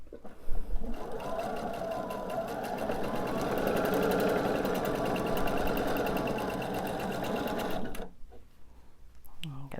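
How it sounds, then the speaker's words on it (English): A sewing machine stitches quilt triangle units in one continuous fast run of needle clatter lasting about seven seconds, close and fairly loud, then stops abruptly, followed by faint handling noises. "if we sew valley to valley, should have a perfect scant 1/4 inch seam"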